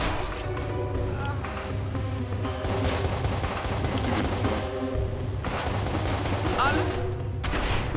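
Gunshots in the Watch Dogs video game, with rapid bursts of firing over a steady game backdrop, loud and close, while a player talks.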